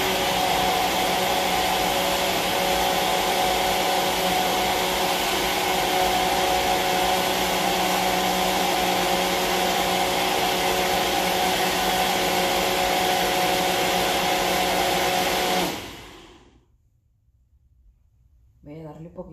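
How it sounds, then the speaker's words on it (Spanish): A blender mixes an oat drink with cinnamon, sugar and milk in a loud, steady whirring drone that holds for about fifteen seconds, then cuts off abruptly, leaving near quiet with a faint stir at the end. "ahorita lo voy a licuar, a ver cómo queda"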